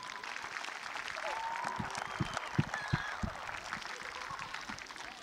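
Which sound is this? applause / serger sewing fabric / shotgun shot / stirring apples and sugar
applause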